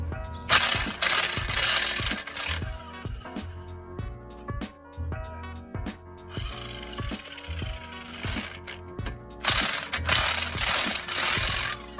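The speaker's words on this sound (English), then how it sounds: "Let's try the old impact first." An impact wrench hammers on a big socket to loosen a Toyota strut nut, loud bursts of rattling blows at the start and again near the end, with quieter mechanical clicking and whirring between them.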